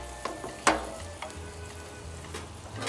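Bacon folded back into a sizzling pan, a steady frying hiss broken by a few sharp clinks and scrapes of a utensil, close up and without voices.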